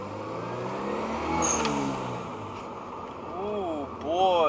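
Car driving around a block with a blow-off valve, steady engine drone with rising revs and whooshing releases, moderately loud and close.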